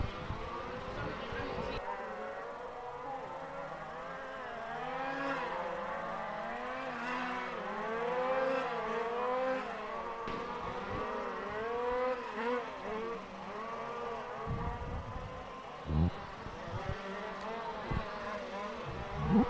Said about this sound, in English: Here from the XR5 class, the rallycross cars